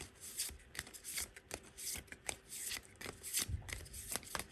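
A deck of oracle cards is shuffled for a tarot reading, giving quick repeated riffles and soft slides of card against card, close and fairly quiet, with no talk.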